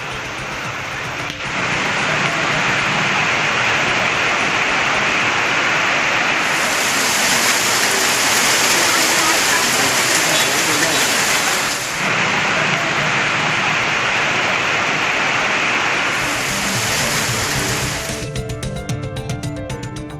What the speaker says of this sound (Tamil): திடீரென கனமழை பெய்தது.